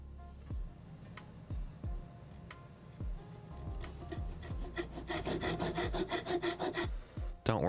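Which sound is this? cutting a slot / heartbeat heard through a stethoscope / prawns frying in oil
cutting a slot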